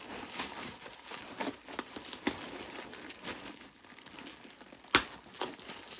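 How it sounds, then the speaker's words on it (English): Packing tape on a package is punctured with a pen, giving a run of close crinkling, crackling and tearing sounds with one sharp pop near the end. "I'm going to try to stab through the tape."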